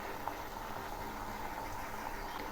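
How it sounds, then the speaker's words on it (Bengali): Malabar spinach and vegetables cooking in a pan give a steady, quiet hiss and faint sizzle, with no clear stirring strokes and no voices. "এগুলি এখন ধীরে ধীরে নেড়ে দেব"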